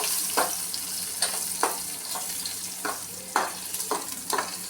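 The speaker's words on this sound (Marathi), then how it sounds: "लसूण जरा लालसर होईपर्यंत परतून घेऊया." Crushed garlic sautés in hot oil with cumin and asafoetida, a steady sizzle punctuated by about eight spatula scrapes at a slow, regular stirring rhythm, heard up close.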